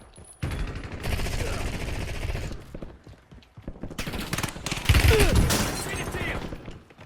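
Bursts of gunfire in the battle-royale video game Warzone, loud and dense from about half a second on, fading mid-clip, then returning heavier around the five-second mark, with some game voice underneath.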